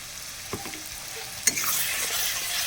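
Masala spice paste with green chilli, salt and chilli powder sizzling steadily in a pan for a home-style chicken curry, with a few sharp scraping stirs of a spatula over the continuous frying hiss.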